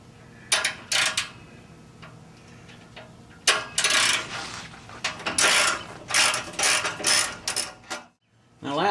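A ratchet works 15 mm exhaust bolts loose on a 2011 C6 Corvette fitted with a Borla S-Type II exhaust, giving rapid metallic clicking in repeated bursts up close, with short pauses between strokes.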